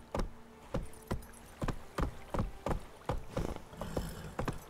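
The horse Roach gallops in the video game The Witcher 3, with a rhythmic series of about a dozen close, loud hoofbeats at an even pace and no speech.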